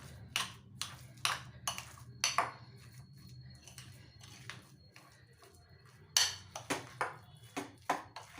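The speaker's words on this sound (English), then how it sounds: "we'll stir this up very well" A spoon clinks repeatedly against a bowl while stirring a veg cutlet mixture with salt, sharp bright taps in quick bursts with a pause in the middle, close and clear.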